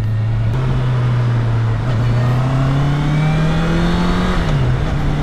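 Honda CBR650R motorcycle riding in traffic, its engine a strong, steady hum that climbs gently in pitch, then dips briefly and settles, with road and wind noise around it.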